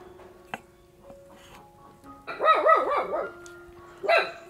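A dog barks a few times at moderate distance, a quick burst of barks followed by one more after a short pause.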